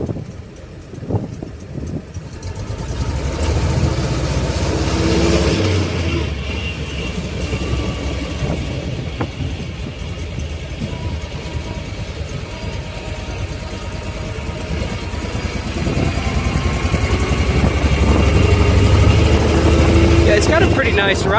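A 1924 Studebaker Light Six doctor's coupe driving, its engine a loud continuous rumble and drone close by that builds toward the end, with someone talking over it.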